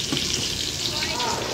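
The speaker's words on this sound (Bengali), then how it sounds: "আর এখানে এই যে মাছ ভাজাটা করছি, আর এখানে চিকেনটা করছি" Fish and chicken fry in a pan with a continuous close, crackling sizzle that stays even through the short stretch, and no talking is heard.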